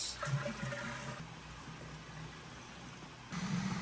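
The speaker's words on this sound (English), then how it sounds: "Just enough hot water to dissolve it." Hot water runs steadily into pure maple syrup to dilute it for a fermentation, a soft continuous pouring and rushing sound that swells briefly near the start and again at the end.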